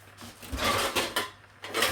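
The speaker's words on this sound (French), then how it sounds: "je vais mettre le couvercle" A metal lid being set on a cooking pot over very low heat, with a few close clinks and a scraping rattle as it settles, then a brief knock near the end.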